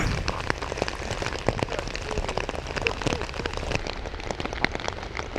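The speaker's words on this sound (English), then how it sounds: "it's raining so hard, there is just puddles everywhere" Heavy rain pours steadily in Copenhagen near Rosenborg Palace, a dense, continuous hiss of drops spattering on puddles and surfaces, with close splats and patters on a plastic poncho layered over the downpour.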